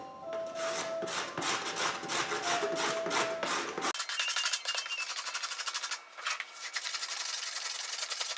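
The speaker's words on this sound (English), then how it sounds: "So we're going to scrape it smooth." A hand scraper works over violin wood, smoothing it with repeated rasping strokes, close and clear, first in short broken passes and then in a brighter, denser run of quick scrapes.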